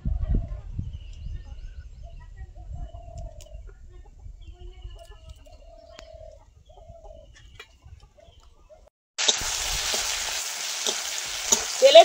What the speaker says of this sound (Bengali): তেলে পেঁয়াজ রসুন দিয়েছি,